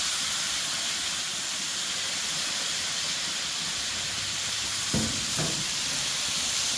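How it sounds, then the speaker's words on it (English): Water steams and hisses on a hot Blackstone griddle top, a steady broad sizzle with a couple of brief scrape-like knocks near the end. "What this is going to do is it's going to steam those bits that are stuck to the griddle top."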